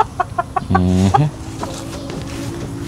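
A breeding hen in a Filipino backyard flock gives a few short clucks, then one longer drawn-out vocal call, with quieter clucking and farm background trailing after.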